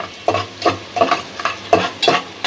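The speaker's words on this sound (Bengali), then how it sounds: "আমার পেঁয়াজ আর গরম মশলা এলাইচ ভাজা ভাজা হয়ে গেছে" Rhythmic scraping of a spoon stirring onions and garam masala with cardamom frying in a pan, about five strokes, with a light sizzle underneath.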